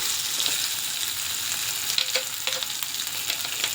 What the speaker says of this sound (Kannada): ಇದಕ್ಕೆ ನಾನು ರುಬ್ಬಿರೋಂಥ ಮಸಾಲೆ ಹಾಕ್ತೀನಿ.